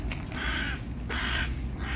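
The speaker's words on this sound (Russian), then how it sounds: "Ворона. Что-то ей не нравится." A crow on a city street in Saint Petersburg gives two harsh caws, the second one longer, fairly close and distinct over a low hum of traffic.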